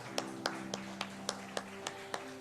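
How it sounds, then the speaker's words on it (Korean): A church congregation claps in blessing during a Sunday service as a child leaves the front: a steady, evenly spaced run of sharp claps, fairly faint, over a low sustained hum, with no talking. "우리 축복의 박수를 부탁드립니다"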